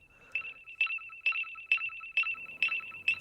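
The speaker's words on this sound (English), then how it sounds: "you know the sound that line bikes make when someone is stealing them?" A Lime electric scooter-bike anti-theft alarm plays from a phone speaker: a shrill, piercing electronic tone pulsing in regular bursts about twice a second, seven repeats, loud and close over a faint room background.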